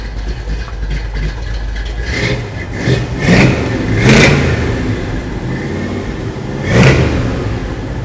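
A 1962 pickup truck engine revs in several rising bursts over a steady idle, with surges around the middle and near the end, loud and close.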